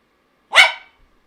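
A single sharp, close dog bark rings out on its own, a short loud burst with a quick decay, as a pet dog demands food.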